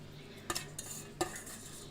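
A fork or spoon clinks against a bowl a few times while beating eggs mixed with chopped onion, green chili and coriander leaves for a Bengali egg dish; three or four short, fairly faint taps with quiet pauses between.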